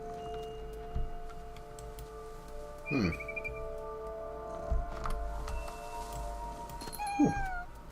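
A cat meows twice, short and high, in the video game What Remains of Edith Finch, over a steady humming electronic background with faint clicks and ticks.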